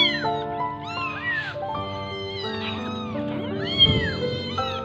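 An abandoned kitten left at a market cries for its mother, with loud, close, rising and falling meows that come in quick succession, often overlapping as if several small voices call at once.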